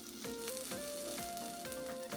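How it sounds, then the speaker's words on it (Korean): Tortilla sandwich frying in a lightly oiled pan, giving a steady close sizzle with a few soft scraping strokes, no talk. "팬을 그대로 올려서 식용유 약간 넣고 달궈주면 또띠아 샌드위치 넣고"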